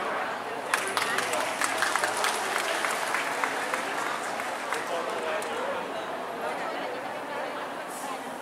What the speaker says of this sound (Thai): ขอเสียงปรบมือให้กับการแสดงชุดพิเศษของเราค่ะ